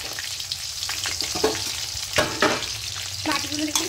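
Fish pieces frying in hot oil in a pan for an Indian fish curry with potatoes, a steady crackling sizzle with sharper spattering bursts, close and alone with no talk.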